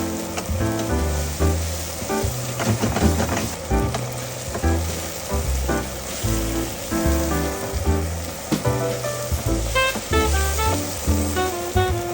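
Sliced mushrooms fry in butter and olive oil in a pan for beef stroganoff, giving a steady, close crackling sizzle throughout with soft background music underneath.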